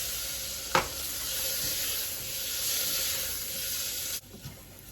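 Carrots sizzling in a hot pan with a steady, close hiss, a sharp clink of a utensil near the start and stirring scrapes; the sizzle drops off abruptly near the end.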